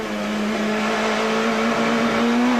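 A 1996 Super Touring race car powers out of a chicane on the Silverstone GP circuit, its engine holding a loud, steady, droning note close by throughout.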